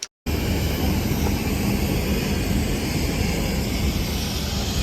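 A passenger airplane roars in the cabin as it lands at Lungi Airport in Freetown, Sierra Leone, a steady loud engine and airflow rumble after a brief silent gap at the start, with no voices.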